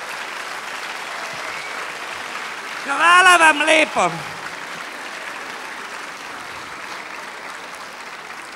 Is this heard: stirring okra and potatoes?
no